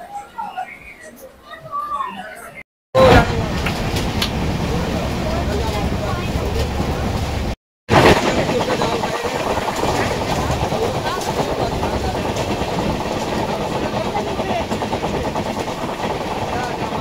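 The 12857 Tamralipta Express chair car runs at speed just out of a station on the Howrah to Digha line, heard from inside as a loud steady rumble and rattle that cuts out twice briefly, with a quieter stretch at the start.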